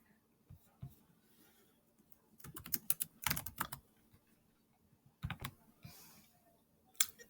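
Keys clatter on a computer keyboard in quiet, uneven bursts, with scattered single taps between denser flurries of typing, close and fairly soft.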